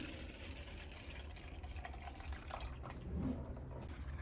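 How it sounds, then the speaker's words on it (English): Water from a bottle trickles and drips through a damp moss pole, a faint, steady wet patter with a few louder drops near the end. "You can see the drips."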